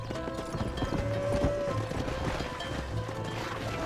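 Horse hooves clip-clop in a steady galloping rhythm inside the Red Dead Redemption video game, quick repeated thuds at moderate volume over a low ambient background with no speech.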